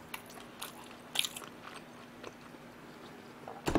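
Chop steak is chewed slowly during an eating show, with soft wet mastication and occasional crunchy bites up close. A sharper bite comes near the start and another at the end, with no talking.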